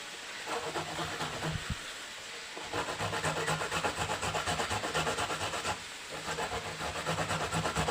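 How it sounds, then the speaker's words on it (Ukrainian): A carrot is rubbed back and forth on a hand grater, making a rhythmic, close, raspy scraping in quick repeated strokes with two brief pauses between bursts. "Тепер так же само тру і моркочку на оцю терточку"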